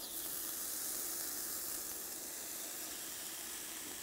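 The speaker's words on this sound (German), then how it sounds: "jetzt kommt das Fleisch in die Pfanne" Meat searing in a hot Zepter frying pan gives a steady, even sizzle and hiss that stays unbroken for the whole stretch, soft but continuous, with no talking over it.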